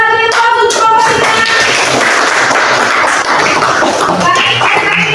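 Loud, dense applause from a classroom of students fills the whole stretch for group 3, steady clapping with a few voices mixed in.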